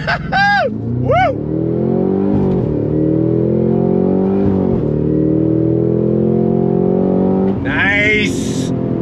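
A 2023 Cadillac CT5-V Blackwing launches hard, its engine roaring and climbing through gear changes, loud and close from inside the car, while voices whoop and shout over the start and end.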